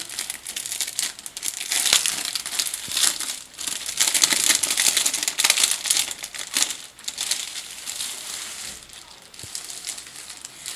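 Plastic packaging of a bead embroidery kit being opened, with loud, close crinkling and crackling that continues in dense bursts for the whole stretch, then eases slightly near the end.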